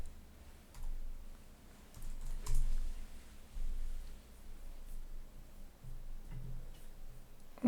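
Soft, quiet keystrokes on a computer keyboard as a search is typed into a web browser, a faint run of light clicks with no voices.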